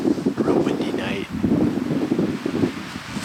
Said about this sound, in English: Real windy night.